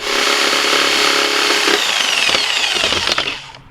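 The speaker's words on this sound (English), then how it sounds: "we're gonna use this saw and just follow this edge" A power saw cuts through a plastic 5-gallon bucket, a loud continuous buzzing grind for a few seconds that rasps and then trails off as the cut ends.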